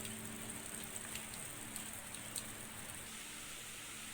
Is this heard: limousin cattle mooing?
no